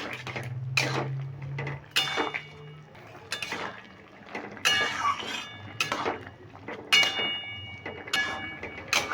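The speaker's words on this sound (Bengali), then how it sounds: "পোস্তটা দিয়ে ভালো করে নেড়ে নিচ্ছি" Dry-ground poppy seed paste being stirred into a cooking pan, with a spoon scraping and clinking against the metal in repeated uneven bursts separated by short pauses.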